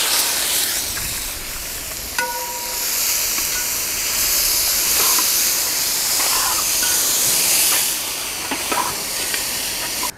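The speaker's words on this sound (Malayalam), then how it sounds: "അപ്പോൾ ഓയിൽ നന്നായി ചൂടായ ശേഷം നമുക്ക് ഈ ജീരകം ഒന്ന് ഇട്ട് കൊടുക്കാം" Cumin seeds and onion sizzling in hot oil for a samosa filling, a steady bright hiss throughout with faint stirring clicks and no talk.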